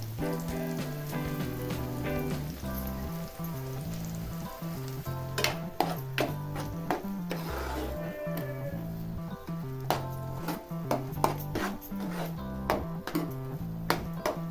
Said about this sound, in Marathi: आता 2 मिनिटं परतून घ्यायची